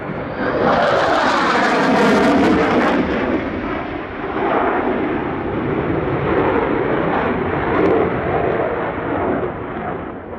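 A Hornet fighter jet roars past at an airshow in Illawarra, a loud, sustained broadband jet thunder that swells early and holds steady throughout with a rumbling, crackling edge.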